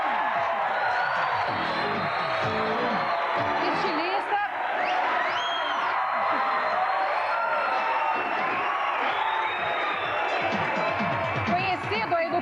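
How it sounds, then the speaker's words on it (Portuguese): Studio audience at a 1990 Brazilian television talk show applauding and cheering a guest, steady crowd noise with whoops, while people talk over it. "Eu queria os aplausos, então, para o Clodovil Hernandes."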